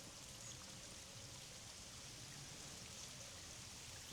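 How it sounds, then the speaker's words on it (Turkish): A small, low-flow waterfall dripping and trickling drop by drop in a wooded valley, a faint continuous watery patter and hiss with no voices. "Su sesiyle birlikte harika bir ortam oluşuyor burada. Şöyle size de bir dinleteyim."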